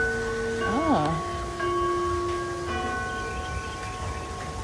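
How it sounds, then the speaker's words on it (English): A chime rings at the Disneyland castle, with a few clear bell-like tones that stand out over crowd murmur and background music, moderately loud. "I don't know what that chime is."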